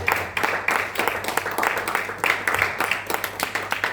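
A church congregation at an Easter celebration clapping and applauding in praise, a dense, lively burst of hand claps with an uneven rhythm that surges and eases, voices mingled underneath.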